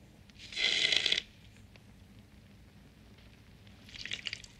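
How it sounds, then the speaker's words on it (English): Drinks poured by a butler in the film Clue: a bright trickling pour of about half a second, then near quiet, then a second softer pour starting near the end. "He's pouring drinks for everybody."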